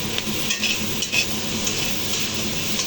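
Tomatoes and spices sizzle in a pan for oats khichuri while a utensil stirs and scrapes them, giving a steady close-up fry with soft, irregular clinks.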